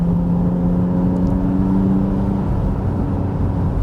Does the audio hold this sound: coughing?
no